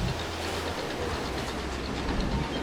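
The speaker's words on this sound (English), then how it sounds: "So we've got a train to catch." A train ride in the video game Planet Coaster rumbles along steadily with a rhythmic clickety-clack of wheels on rails, close and continuous at moderate level, with no talk over it.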